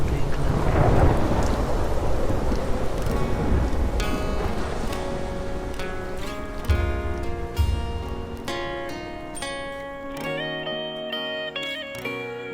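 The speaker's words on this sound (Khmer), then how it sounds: "ឥឡូវមេឃកំពុងតែភ្លៀងខ្លាំង" Heavy rain pours with deep rumbling thunder, loud at first, then easing as melodic tones come in toward the end.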